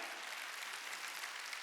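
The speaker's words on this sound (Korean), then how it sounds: "박수 치라 이게요" A church congregation applauds during a Wednesday worship service, a steady, fairly distant wash of clapping with no voices.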